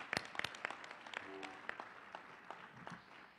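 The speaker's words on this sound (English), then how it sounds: "Let's give them another round of applause." A small audience gives a round of applause after a youth dance and gymnastics performance: faint, sparse claps scattered at an uneven rhythm, heard from a distance.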